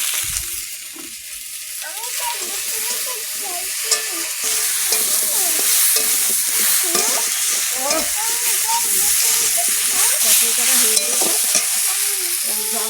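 Okra cooks in a hot pan with salt, turmeric and water, a loud continuous sizzle and bubbling with frequent stirring clatter throughout.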